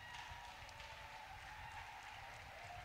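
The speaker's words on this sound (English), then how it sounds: "Let's clap for Brother Matthias." Applause for Brother Matthias at an Easter miracle church service, a steady wash of many hands clapping with crowd noise, continuous and fairly faint throughout.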